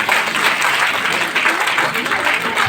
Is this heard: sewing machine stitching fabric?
no